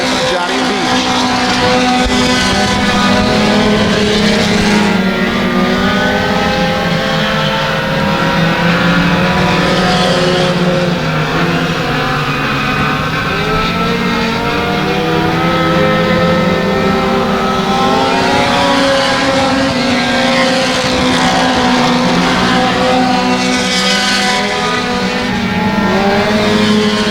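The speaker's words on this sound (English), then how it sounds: "These cars are now starting to fan out across this 3/8 mile here at the fairgrounds" Mini stock race cars roar around a 3/8 mile dirt track at a fairgrounds, several engines droning and revving together loud and continuous, pitch swelling and falling as the pack passes.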